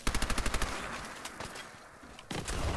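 Fallout 4 gunfire opens with a rapid burst of about eight evenly spaced automatic shots, gives way to scattered, fainter reports, then closes with another quick volley, with no speech over it.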